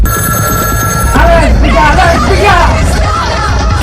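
A telephone bell rings steadily for about a second, then shouting voices and crowd babble take over, loud and close.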